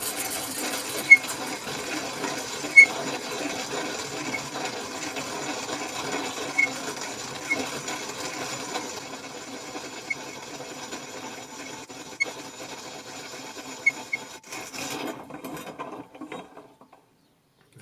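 A homemade hand-cranked grain mill grinding grain, giving a faint continuous mechanical whir with scattered clicks and ticks, close by, before the grinding stops near the end.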